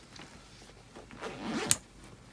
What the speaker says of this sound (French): on a une petite fermeture éclair à ce niveau-là que nous allons ouvrir